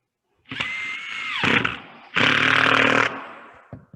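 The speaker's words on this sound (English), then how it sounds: "I can drill this screw directly into this without drilling a pilot hole." A power drill whirs in two short bursts, the second longer and louder, as it drives a screw into G/flex epoxy without a pilot hole, then brief clicks and silence.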